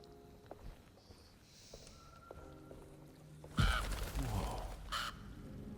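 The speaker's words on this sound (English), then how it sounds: "Stinking crows." Crows caw nearby in a few harsh, rasping bursts that come after a stretch of quiet rustling and soft footsteps.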